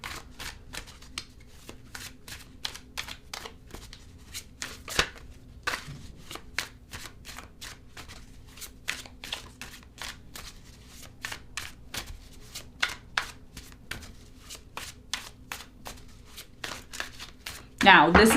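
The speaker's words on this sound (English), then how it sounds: "I'm just going to do a quick shuffle." A brand-new tarot deck is riffle-shuffled and bridged by hand, giving dense rapid card flutters and soft slaps repeated steadily for a long stretch, close and fairly quiet.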